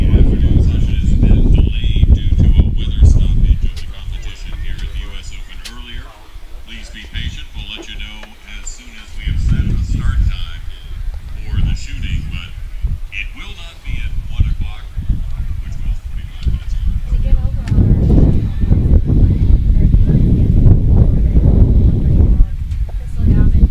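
Strong gusty wind buffets the microphone outdoors at a US Open archery tournament, loud low roaring that swells and eases, with a voice talking over it.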